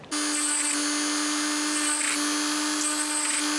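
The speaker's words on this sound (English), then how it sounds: "I'm borrowing Sophie's Dremel because I can't find mine and hers is better" A Dremel rotary tool trimming plastic tabs, a steady high-pitched electric whine that runs continuously at close range, with slight changes in pitch as the bit bites into the plastic.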